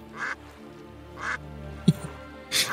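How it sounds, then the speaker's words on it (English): A duck quacks in a few separate bursts spaced across a couple of seconds over a quiet backdrop, with mist on a lake as the setting; the calls are moderately close and clear. "That's a duck."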